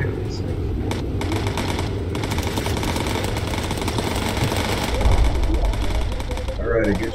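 Machine guns fire in the Bomber Crew video game, a dense, rapid rattle of bursts that runs almost unbroken over a low droning engine, loud and close throughout.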